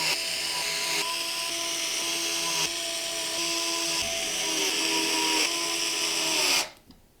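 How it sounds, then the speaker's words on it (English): A power screwdriver drives long radiator screws to fix fans onto a radiator during a Raidmax X603 PC build, whirring steadily and close for about six and a half seconds before cutting off abruptly. "we're going to use the long radiator screws to secure the fans to the radiator"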